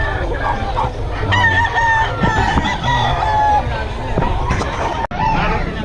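Chickens at a busy poultry market in the Philippines, a rooster crowing loudly and close among clucking birds, with a babble of sellers and buyers talking throughout.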